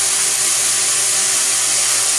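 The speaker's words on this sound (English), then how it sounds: "Now we'll run the center drill in to get the hole started in the center of the part." A center drill runs into a metal part on a lathe, giving a steady, loud hissing whir of cutting and spindle noise that holds evenly throughout.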